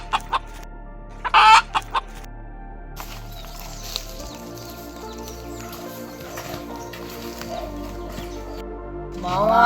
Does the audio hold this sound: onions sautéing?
no